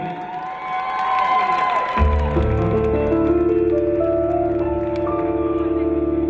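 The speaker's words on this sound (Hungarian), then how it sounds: "Egy nagy tapsot kérünk" A concert audience at the Syma hall cheers and applauds for a Hungarian folk-song performance. The loud crowd noise quickly gives way to a band and singing that carry on to the end.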